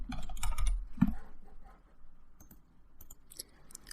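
Quiet, close typing on a computer keyboard: a quick burst of clustered key clicks, a short pause, then scattered lighter taps, with no voices.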